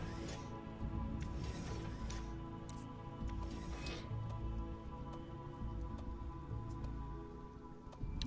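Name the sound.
rain falling, from the video game Sheltered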